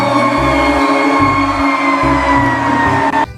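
Toy fire truck siren, a loud electronic two-tone wail with a steady pulsing low honk repeating underneath, continuous throughout and ending abruptly near the close.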